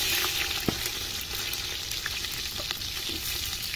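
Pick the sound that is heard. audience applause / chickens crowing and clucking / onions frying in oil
onions frying in oil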